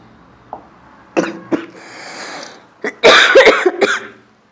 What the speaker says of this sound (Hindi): खांसी कुछ ज्यादा ही हो गई है।